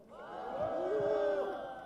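A crowd at a political rally outside the National Assembly in Yeouido, Seoul, raising a sustained collective shout of cheering that swells and fades over a couple of seconds, with no speech over it.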